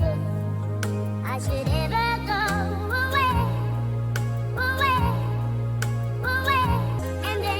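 Soul sample, pitched up five semitones and chopped on tempo. It plays as a steady stream of short, repeated sung slices over sustained chords, with abrupt cuts between the slices.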